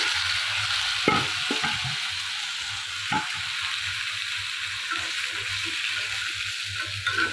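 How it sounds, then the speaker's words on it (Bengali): Pumpkin pieces frying in mustard oil give a steady, soft hiss and sizzle, broken by a few sharp taps and scrapes of a utensil in the pan. "আর এখানে আমি মিষ্টি কুমড়াগুলো ভেজে নিচ্ছি"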